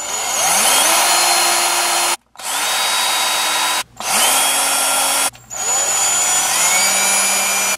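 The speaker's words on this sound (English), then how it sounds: "just drill that out." Power drill boring out a hole in a Tamiya Hornet RC car sway bar mount, running in three long whirring bursts separated by short pauses, loud and close with no talking.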